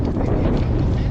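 Wind gusts buffet the microphone on a Hobie iTrek 11 inflatable kayak on open water, a loud, rumbling, low roar that stays constant throughout.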